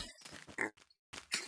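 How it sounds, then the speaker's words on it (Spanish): A few short, snorting pig grunts from a Minecraft pig come in quick bursts with brief silences between them, close and fairly clear. "Otro cerdo."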